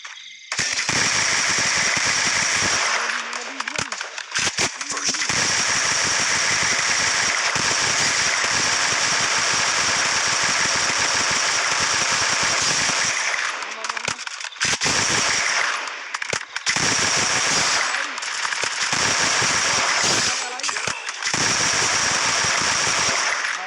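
Sustained automatic gunfire in the Free Fire video game, loud and nearly continuous bursts with brief gaps around the fourth, fourteenth and seventeenth seconds, no talk over it.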